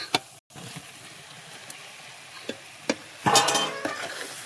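Potatoes frying in a pan are stirred with a few distinct scraping clinks, ending in a louder burst of sizzle and stirring, close and alone.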